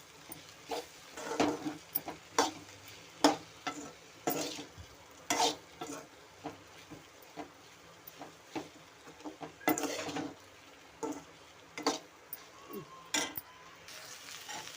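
Spoon repeatedly stirring and scraping an okra stir-fry with cumin powder and garam masala in a pan, with irregular clinks and scrapes over a faint sizzle, close and fairly quiet, no talking.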